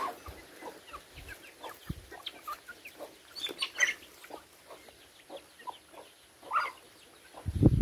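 A flock of chickens clucks softly and repeatedly outdoors, the scattered calls moderately faint with a louder low thump near the end.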